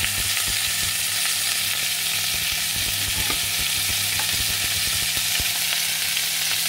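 Mozzarella-stuffed meatballs fry loudly in a covered pan, giving a dense, continuous sizzle with faint crackling pops, close and steady.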